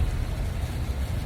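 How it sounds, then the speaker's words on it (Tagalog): Heavy rain falls steadily in a dense, unbroken wash of sound on a rainy morning, close and fairly loud with no voices. "Grabe po ulan."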